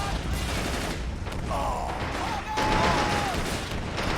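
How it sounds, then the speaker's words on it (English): A grenade explodes on an AT gun amid a Stalingrad 1942 battle in Men of War: Assault Squad, the blast and crashing debris buried in dense ongoing gunfire and combat noise, with a faint whistling tone drifting over it. "Alright, looks like a grenade just went off on the AT gun."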